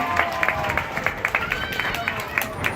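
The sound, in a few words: applause for the dolphins Cosmo and Chopper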